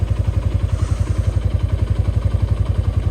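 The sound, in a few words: Honda Tiger motorcycle engine running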